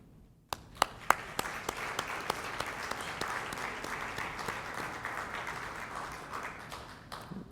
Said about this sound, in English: I would like to ask you to join me in a round of applause